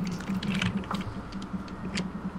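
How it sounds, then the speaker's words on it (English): Keys clatter on a computer keyboard in quick irregular bursts of soft clicks, fairly close and faint over a low steady hum, with no speech. "Who's typing?"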